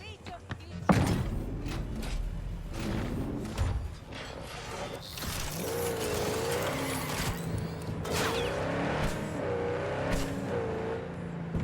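Car in the video game Cyberpunk 2077: a door clunks shut and the engine starts, then revs and accelerates with a steady motor drone and shifting pitch.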